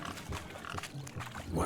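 Pigs oink and grunt in The Witcher 3 during a village pig-chasing race, short snorting bursts over a busy game background.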